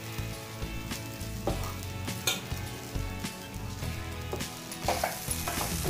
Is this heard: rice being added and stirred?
yes